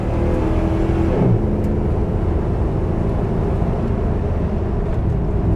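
A Dodge Ram pickup's 5.7 Hemi V8 drones loudly and close up with a deep, steady engine roar, briefly dipping in pitch as it changes gear early on before pulling on evenly.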